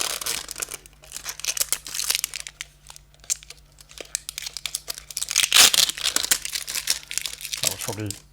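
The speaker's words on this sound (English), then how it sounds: "Right, a bit of plastic to peel off." Protective plastic film crinkling and tearing as it is peeled off a new drone, with bursts of crackly rustle through the clip and a louder rip near the middle, close by and with no talking.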